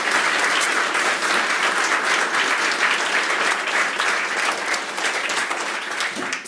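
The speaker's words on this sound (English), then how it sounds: "Thanks for the applause for a non-technical talk" Sustained, loud applause from an audience after a talk on personal robotics, dense clapping that stays full and even for several seconds before dipping slightly at the very end.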